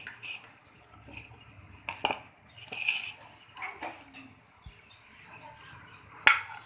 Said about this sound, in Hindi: अब हम एक बॉल ले लेंगे